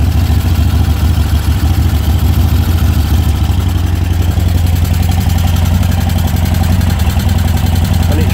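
A small engine with its choke on, started with a press of the button and settling into a steady idle, running loud and continuous throughout with a low, even throb.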